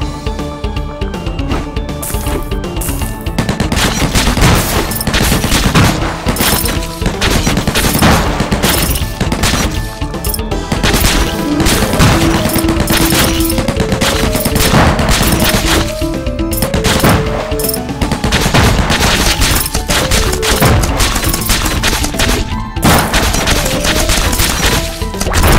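A heavy machine gun fires continuously in the Undead Squad action game, producing a long, loud, relentless stream of rapid shots mixed with impact smashes and crashes. There is no talking over the constant barrage.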